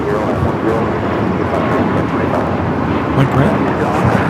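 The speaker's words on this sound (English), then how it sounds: "United A321 Neo now take it off." A United Airlines A321neo takes off from LAX runway 25 right, its engines giving a loud, steady roar. Talk carries on underneath.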